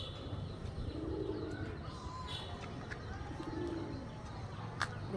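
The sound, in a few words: pigeons cooing, Teddy and Golden cross pigeon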